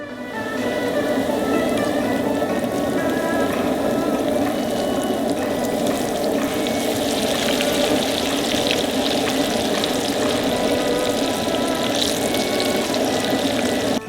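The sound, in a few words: starch-coated carp deep frying outdoors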